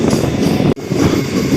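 A passenger train runs through Chagallu railway station without stopping, making a loud, steady rumble from close by. The rumble cuts out briefly partway through, then continues.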